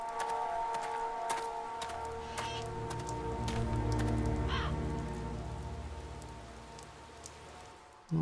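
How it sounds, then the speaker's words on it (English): Steady rainfall in the video game Silent Hill: Downpour, a constant hiss of drops on surfaces with a low rumble swelling in the middle and a few sharp ticks, no voices heard. "This is actually the first time we start to see the incredibly nice rain effects that the game has."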